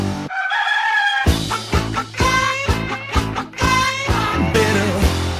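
Loud, rhythmic band music with a crowing rooster at the start, a drawn-out, warbling call before the drums and bass come in, then pulsing beats.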